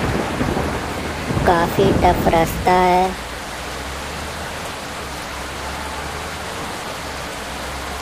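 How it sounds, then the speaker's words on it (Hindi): Heavy rain pours around a bus stuck in Manali, a dense roar of rainfall with low rumbling thunder underneath, while someone talks loudly over the downpour for the first few seconds before the rain carries on alone. "ये देखो फ्रेंड्स, कितनी बारिश हो रखी है"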